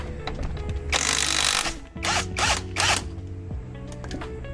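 A cordless impact gun rattles loudly in several hard bursts while backing out shock absorber bolts, with a ratcheting hammer between pauses and workshop noise behind.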